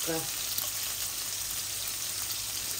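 Garlic and cumin fry in hot oil with a steady, close crackling sizzle, and a brief voice is heard at the start.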